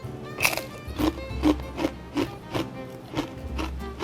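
Crisp crunching bites into a dry, crunchy squid-shaped snack containing squid powder, about eight sharp crackly bursts in a steady chewing rhythm, close and fairly loud, with no talking.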